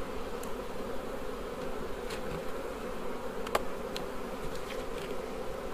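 A steady, droning buzz of many honey bees around an open hive in spring in Wales, continuous and close, with a few faint clicks and taps as bees are shaken off the crown board.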